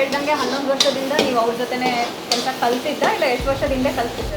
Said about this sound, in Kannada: ಟೊಮೊಟೊ ಹಾಕಿದ್ದೀವಿ ಮೇಡಮ್ ಈಗ ಸ್ವಲ್ಪ ಫ್ರೈ ಆದಮೇಲೆ